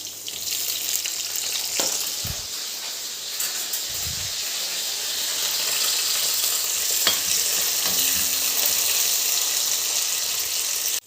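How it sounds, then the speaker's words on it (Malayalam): Ginger, garlic, green chillies and curry leaves fry in hot oil in a Kerala-style tomato curry, a steady loud sizzle and hiss throughout with a few brief stirring knocks and scrapes. "പിന്നെ അതിലേക്ക് ഉടനെ തന്നെ അരിഞ്ഞ് വെച്ച പച്ചമുളകും കറിവേപ്പിലയും കൂടി ഇടണം."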